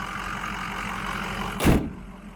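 A warm 2006 Ford F250 XLT diesel truck with a deleted EGR idles nearby in a low, steady rumble, broken by one brief loud burst of noise near the end.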